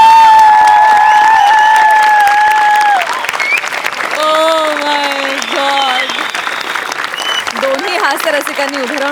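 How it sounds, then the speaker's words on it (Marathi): A studio audience at the Marathi comedy show Maharashtrachi HasyaJatra stands and claps in loud, dense applause, which fades into lighter clapping as voices speak over it. "दोन्ही हास्यरसिकांनी उभे राहून टाळ्या वाजवल्यात."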